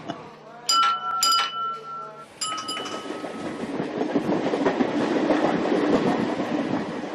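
A Bombay suburban train runs along the tracks, with rhythmic wheel clatter building into a steady rumbling roar, preceded by a few bright horn or whistle tones.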